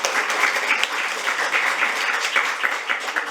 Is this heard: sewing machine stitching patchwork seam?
no